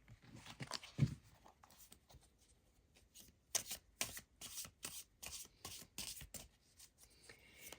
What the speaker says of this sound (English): So let's get you 5 cards from the Secrets of the Necronomicon tarot deck.